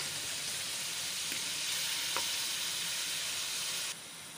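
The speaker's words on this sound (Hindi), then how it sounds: "ये चिकन फ्राई हो गया है।" Chicken frying in a pan, a steady bright sizzle and hiss running throughout, with a couple of faint stirring clicks before the sizzle drops slightly at the end.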